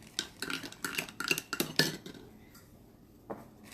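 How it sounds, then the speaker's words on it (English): A spoon clinks around inside a cup of hot lemon tea, a quick run of bright metallic taps and scrapes for about two seconds, then a pause and one last faint clink. "So we're gonna stir this up."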